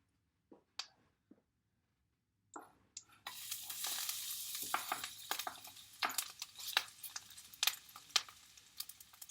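Poblano peppers dropped into hot oil give a loud, continuous sizzle with sharp crackles and pops, starting after a few soft clicks and quiet moments, close by with no talking.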